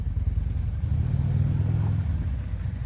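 A Harley bagger motorcycle rides up a road off-road, its engine a low, rumbling drone that surges slightly as it pulls away; moderately close and continuous, with no talking.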